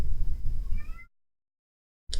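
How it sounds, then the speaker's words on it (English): A cat meows once with a rising, tonal call near the end of a short stretch of room noise, followed by a sudden cut to silence and a brief return of sound. "Oh, cat's got something to say."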